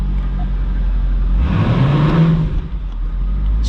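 A 2000 Chevrolet C5 Corvette in drive during a transmission test, its engine revving up loudly and close indoors over a steady idle, then settling back down.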